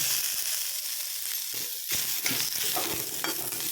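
Onions sizzling and frying in a pan as the base for a fish curry, a steady broadband hiss with occasional stirring knocks, fairly close and continuous with no talking.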